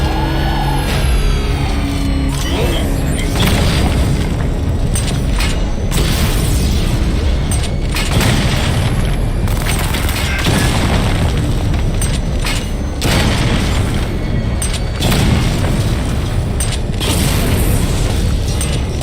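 Explosions from destroyed targets during Batman Arkham Knight gameplay, a dense, loud series of booms and bursts over a continuous rumbling mechanical din, with no pause for the full stretch.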